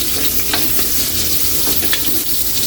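Ginger sautéing in a hot pan for a paksiw na bangus dish, a close, continuous sizzle with a few utensil scrapes and clicks, no voices.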